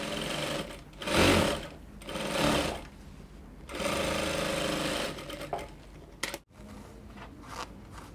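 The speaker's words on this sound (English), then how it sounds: "So you take to the sewing machine, turn your machine down to the longest stitch, and then run a gather stitch across" A domestic sewing machine set to its longest stitch runs a gather stitch across dress fabric in bursts, several loud stretches of whirring motor and needle clatter separated by brief pauses, close and with no voices.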